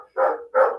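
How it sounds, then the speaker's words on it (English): A puppy gives two quick, close barks in succession, each short and clear with a brief gap between them. "we're just doing a puppy meet and greet here. Nice. with Asu and Miguel"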